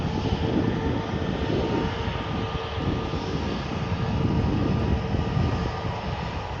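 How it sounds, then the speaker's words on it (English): Scandinavian Airlines A320neo jet on a rolling takeoff roll at Manchester Airport, a steady broadband engine roar heard from a distance, continuous and even throughout with no talk. "the Scandinavian Airlines Neo lining up, and she's going straight into a rolling takeoff roll"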